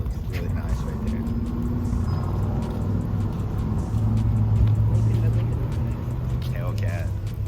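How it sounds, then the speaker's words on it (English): A Dodge Hellcat muscle car rumbles low as it pulls out at an outdoor muscle car show, its engine drone steady and fairly close beneath crowd noise and nearby talk. "Hellcat pulling out."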